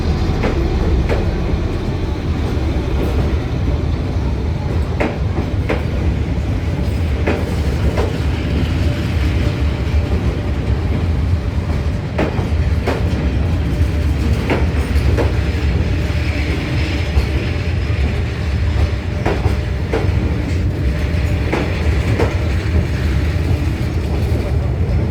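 A train rolls along Hanoi's Train Street, a narrow lane decorated with red and blue lights and colourful lanterns, giving a loud, continuous rumble punctuated by repeated metallic clacks and rattles from the wheels and carriages.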